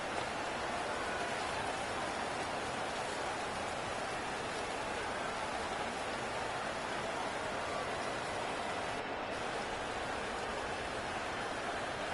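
Rain falls during a football game between Kansas City and the Panthers, a constant broadband hiss that stays even and moderately loud throughout.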